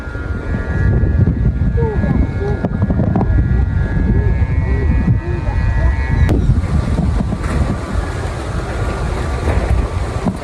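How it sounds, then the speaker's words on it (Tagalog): Strong wind roars and buffets the microphone continuously while flying a bee kite, a loud, steady rushing noise with faint voices mixed in. "grabe yung hangin, lak lakas."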